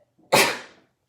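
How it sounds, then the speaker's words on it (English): A single sharp human sneeze bursts out loud and close, then quickly trails off into silence. "so I have to sneeze"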